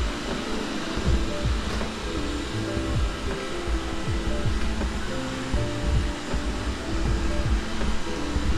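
Mi Robot Vacuum Mop running a cleaning cycle on a floor, a steady whirring motor hum with soft brushing and bumping under it, continuous throughout.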